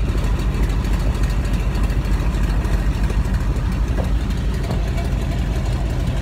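Old radial engine on a biplane idling after startup, a steady dense low rumble held at constant loudness, close and continuous with no speech over it.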